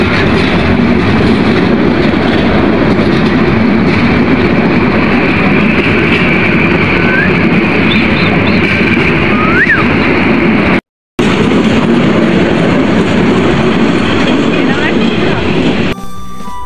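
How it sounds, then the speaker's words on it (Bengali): A passenger train passes through a railway station near Dhaka, a loud continuous rumbling roar of wheels and carriages right up close, with a brief drop in sound partway through and a quieter tail as it moves off. "তো এই ট্রেনটি চলে গেল।"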